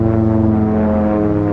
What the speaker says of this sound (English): This small turboprop aircraft is slower, but more maneuverable than jets, faster and more versatile than helicopters.